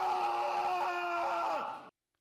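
A basketball player's scream right after a knee pop, replayed from a game: a loud, sustained wailing cry with a wavering pitch that lasts almost two seconds, then cuts off into silence. No clear pop stands out before it.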